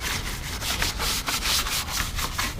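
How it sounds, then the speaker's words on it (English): Brush scrubbing the engine bay of an E38 BMW during cleaning, loud close rhythmic back-and-forth rasping strokes repeating several times a second without pause. "You just scrub it."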